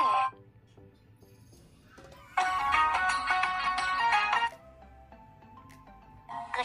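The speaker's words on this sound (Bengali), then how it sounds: "প্লে বাটনে ক্লিক করে আপনি রিংটোনগুলি প্লে করতে পারবেন" A Bangla love ringtone plays as a melodic electronic tune, starting quietly, swelling into a louder bright passage midway, then dropping back to a softer phrase.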